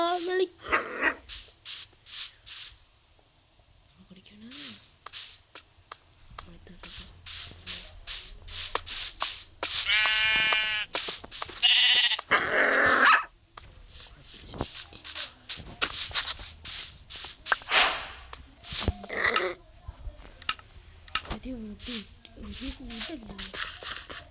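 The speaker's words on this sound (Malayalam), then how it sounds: "ഇവിടെ ഒരു ക്യൂട്ട് ലിറ്റിൽ പട്ടിനെ കിട്ടിയേ" A small dog in Minecraft yelps and barks in short bursts between stretches of talking, with soft shuffling in the background.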